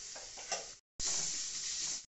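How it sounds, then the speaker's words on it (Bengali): Onions with ginger, garlic and green chili paste are stirred in a pan for a Bengali-style chicken curry, sizzling steadily in two close bursts separated by a brief silence. "আদা রসুন কাঁচা লঙ্কা পেস্ট করে ভালো করে পেঁয়াজের সাথে নেড়ে চেড়ে নেওয়া হচ্ছে।"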